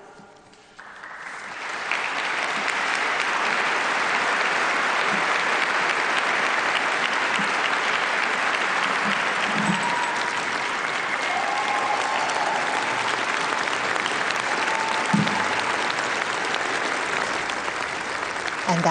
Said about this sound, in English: We are seeing a big round of applause, a standing ovation for Sesko Thurlow.